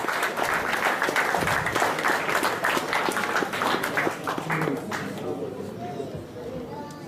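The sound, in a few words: audience applause, ovation for Clichy team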